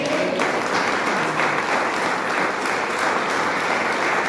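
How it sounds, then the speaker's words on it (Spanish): Loud, sustained applause from a church congregation, a dense roar of many hands clapping without pause, full and close throughout. "¿Podemos darle un aplauso a Dios por el milagro?"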